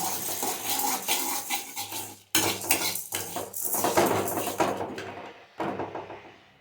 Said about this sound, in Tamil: ஃப்ரை பண்ணிகிட்டே இருக்கணும், அப்போ தான் எல்லா சைடும் வந்து அந்த பருப்பு வந்து வறுபடும்